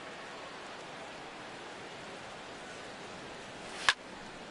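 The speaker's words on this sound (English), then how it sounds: "Rain continues to fall here in the 6th." Rain falls in the MLB The Show 17 baseball video game, a faint, steady hiss that runs throughout with one brief sharp click near the end.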